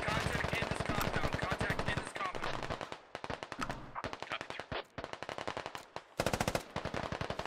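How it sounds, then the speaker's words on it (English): Rapid video game gunfire in a firefight, long bursts of automatic shots rattling in quick rhythm with brief pauses between volleys, loud and continuous, with some talk mixed underneath. "Axe Gaming taking shots at Kumquat, Cyclone, and Dwarf."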